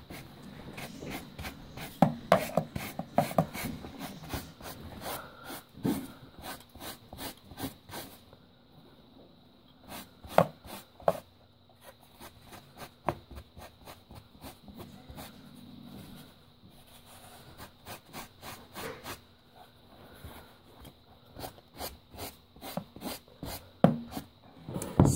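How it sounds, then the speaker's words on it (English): Suede sneakers are rubbed to lift off excess lint, giving soft, irregular brushing scuffs and light taps, quiet and close with pauses and no voices. "I'm taking off all the excess lint, and I'm gonna see if it gets the job done"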